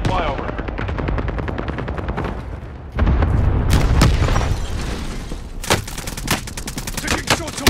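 Gunfire in Call of Duty Warzone: dense, rapid automatic bursts and heavy booming shots layered over each other, loud and continuous, with game voice lines mixed in.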